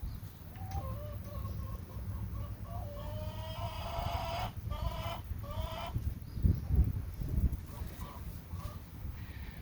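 Chickens cluck repeatedly in a backyard flock during compost work, steady and moderately close, with a few louder squawking bursts; no talking.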